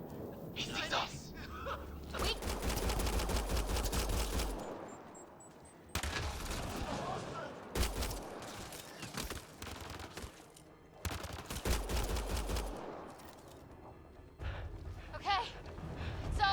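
Bursts of automatic gunfire from the game Mass Effect Andromeda come in several loud volleys, broken by short pauses and heavy low impacts, with voices talking between the shots.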